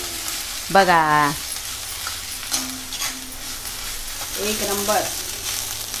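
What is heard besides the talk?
grated coconut sautéing with sheglachi bhaji in a pan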